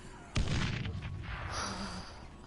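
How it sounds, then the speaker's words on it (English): A grenade goes off in the video game Dead Island: one sharp, loud blast followed by a rumbling, fading decay lasting about two seconds. "Throw a grenade at you."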